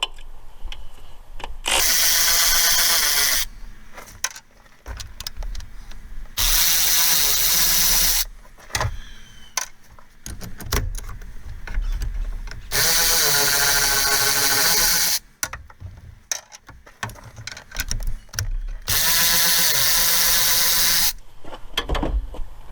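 A power tool loosens 15 mm upper strut mount bolts on a Buick Regal, sounding in several loud sustained whirring bursts of a few seconds each, separated by quieter stretches of clanks and handling noise.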